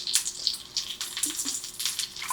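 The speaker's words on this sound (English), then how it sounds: "So I'm going to pour me just a little bit of lemon juice on here." Lemon juice poured from a large jar onto salmon fillets in a skillet, giving a soft, close trickle and splashy hiss in uneven bursts over a couple of seconds.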